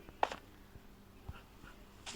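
Dog in Minecraft whimpering after being hit, a few short faint yelps and whines spaced over a couple of seconds against a quiet background.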